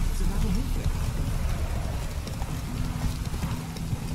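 Roach, a horse in The Witcher 3, moving along with steady rapid hoofbeats under continuous ambient noise while someone talks.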